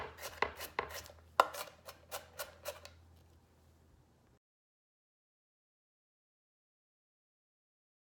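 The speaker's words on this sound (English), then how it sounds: "So I'm just gonna roughly chop this onion" A knife roughly chopping an onion on a cutting board, about a dozen crisp, quick chops in an uneven rhythm over three seconds, close and quiet, then silence.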